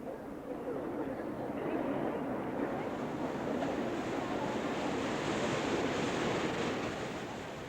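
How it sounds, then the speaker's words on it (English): Seawater rushing into a great dry dock at a Dubai port complex, a broad, steady roar of flowing water heard from some distance, holding even and continuous throughout. "to let the water into the great dry dock"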